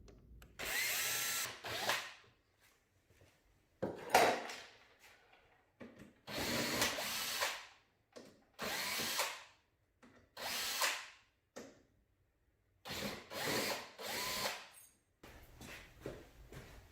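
A power drill removes the hinges from an old hollow-core interior door in a garage, sounding in five or six loud, separate whirring bursts of one to two seconds each, with short quiet pauses between them.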